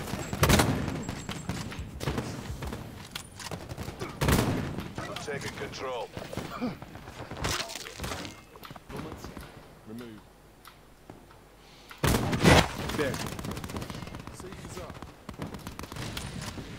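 Sharp sniper gunshot bursts from the video game Black Ops 4 ring out in clusters, loud and close, with players talking excitedly between the shots.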